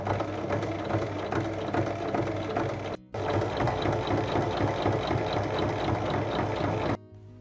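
A sewing machine runs steadily stitching darts on a fabric glasses case, a dense continuous mechanical whir with a brief stop near three seconds, then resuming until it halts just before the end.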